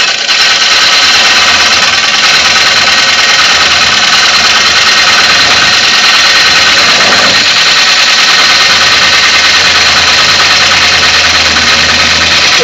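A wood lathe spins at about 500 RPM while coring a bowl, holding a loud, continuous motor drone with a steady whine from start to finish and no voices.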